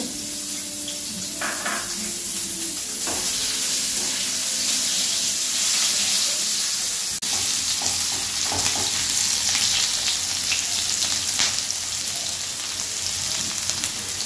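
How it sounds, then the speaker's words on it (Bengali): Onion sizzles in hot oil in a pan while cooking pabda fish in mustard gravy, a loud, close, continuous crackling fry. Occasional stirring and clinks break the steady sizzle throughout. "পেঁয়াজটা হালকা গোল্ডেন ভাজা হবে।"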